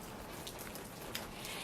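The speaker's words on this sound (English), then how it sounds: "plus now it's raining outside" Rain falling outside, a steady soft hiss of drops spread across the whole clip with a few slightly brighter patters, faint and even, no voices.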